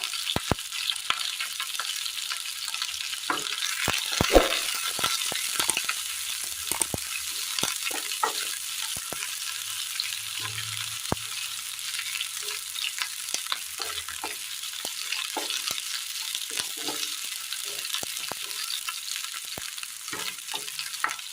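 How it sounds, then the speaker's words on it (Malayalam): Chopped shallots and chillies fry in hot oil with a continuous close sizzle, scattered sharp crackles and pops running throughout. "ഇതിലേക്ക് ചെറിയുള്ളി അരിഞ്ഞത് ഇട്ട് കൊടുക്കാം"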